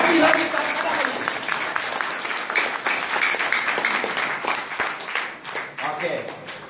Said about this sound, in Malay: kita sama-sama bagi tepukan yang sampai lagu ni padam